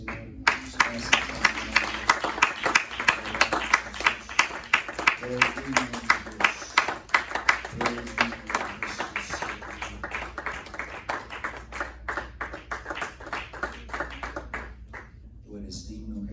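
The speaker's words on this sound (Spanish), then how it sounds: "Dale un fuerte aplauso al Señor." A church congregation clapping in steady rhythm during worship, crisp repeated claps at a lively pace lasting about fifteen seconds, with a voice and faint music underneath.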